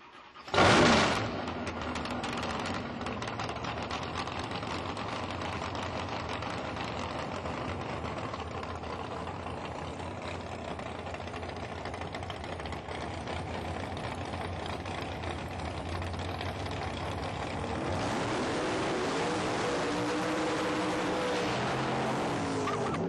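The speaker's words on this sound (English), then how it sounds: "Okay, gentlemen, start your engines." Drag racing cars fire up at Amarillo Dragway: a sudden loud engine start, then a sustained, close, steady roar, with a second engine swelling in near the end.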